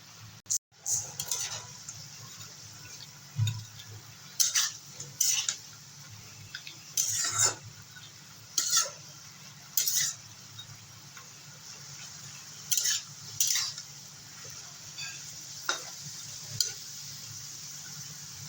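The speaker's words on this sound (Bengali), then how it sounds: "এবারে ভেজে রাখা মাছগুলো দিয়ে দেবো" Fried fish pieces going into a simmering leafy curry in a pan, with repeated scrapes and clinks of a metal spoon against the pot over a low bubbling simmer, close and moderately loud, no talking.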